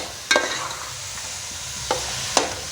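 Carrot halwa being stirred and mixed in a pan, with a soft scraping bed of sound broken by three sharp clicks of the spoon against the pan, no voices over it.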